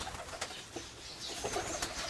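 Decorative ribbon pigeons coo softly nearby, low faint murmurs amid quiet background shuffling, with no talk.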